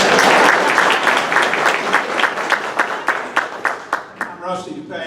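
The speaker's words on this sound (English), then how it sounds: "give him a hand clap" An indoor audience gives a guest applause, a dense burst of clapping that thins into a few distinct claps and trails off, with a voice starting up at the very end.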